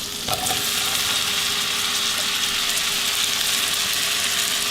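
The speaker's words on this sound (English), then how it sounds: "We're going to put in our mushrooms and onion." Mushrooms and onion fry in a hot pan with a steady, dense sizzle throughout, close and loud, with a faint stirring scrape near the start; nobody speaks.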